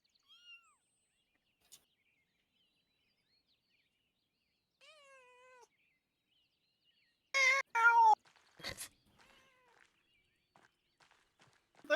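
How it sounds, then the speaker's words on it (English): Cats meow in the Pentiment video game: a few thin, wavering mewls spaced apart, then a louder burst of overlapping meows and a rough caterwaul around the middle. Fainter scattered cat calls follow in an otherwise quiet scene. "I hear cats."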